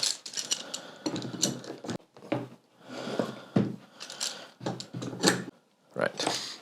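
Clamps are tightened on a guitar under construction, giving bursts of quick ratcheting clicks separated by short pauses, close by, with some talk mixed in.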